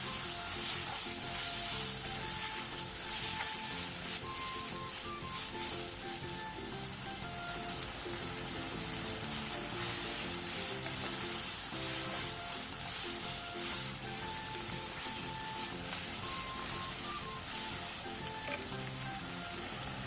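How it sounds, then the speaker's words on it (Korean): Meat frying in a pan with onion and chili pepper, giving a steady, fairly quiet sizzle throughout with small crackles and occasional light stirring noises, and no voices. "양파와 고추를 넣고 고기를 완전히 익혀주세요."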